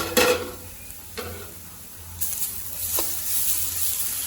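Grated beetroot sautéed in ghee in a pan for beetroot halwa: a steady sizzle broken by several scraping stirs and light utensil clinks against the pan, close up and without speech.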